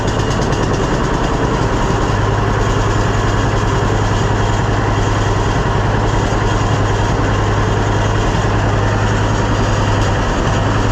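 A John Deere B tractor engine runs close by at a loud, steady idle, a low rhythmic chugging that holds without pause and has no talking over it.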